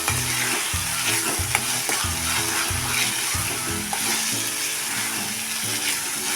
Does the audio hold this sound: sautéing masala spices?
yes